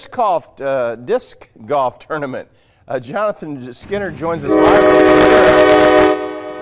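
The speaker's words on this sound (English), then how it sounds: "you can hear the train right behind us right now" A train horn blows loudly downtown during a Christmas parade, a long sustained blast that starts after talk and holds steady to the end of the clip, with voices speaking beforehand.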